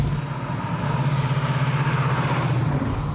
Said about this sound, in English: Super loud and thumpy, 468 cubic inch motor, turbo 400 drive, B&M slap shifter